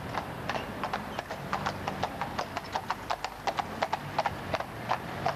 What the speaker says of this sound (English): These are 10 and 11-year-old Polish horses, and we've had them from youngsters, bred them for the job, and they're very good in London traffic.